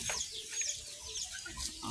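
A hen laying an egg in a nest clucks softly and intermittently at close range, with low murmuring calls over a steady background hiss.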